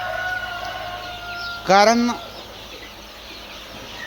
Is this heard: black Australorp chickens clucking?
yes